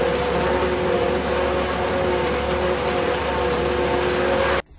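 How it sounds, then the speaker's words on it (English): Rain falls during a corn silage harvest, a steady, loud, close broadband hiss over a constant low engine hum that cuts off abruptly near the end, with no talking. "Because it's raining."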